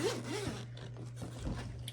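A zipper on a small Glamlite Halloween makeup bag with jack-o'-lantern zipper pulls, drawn in two or three quick rasping strokes, close and fairly quiet.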